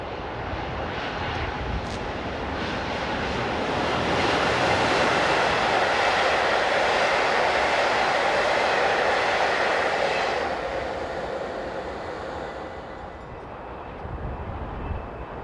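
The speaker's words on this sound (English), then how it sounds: "Hired in from Alpha Trains is 186118." A Class 186 electric locomotive, number 186118 hired from Alpha Trains, hauls a train past at close range, a continuous broad rolling roar building to a sustained peak in the middle before easing away.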